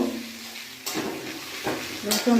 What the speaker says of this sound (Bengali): রসুনটা দিয়ে দিলাম, এই আদাটা দিয়ে দিলাম, ভালো করে ভেজে নেব